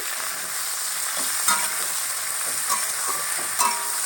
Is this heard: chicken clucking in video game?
no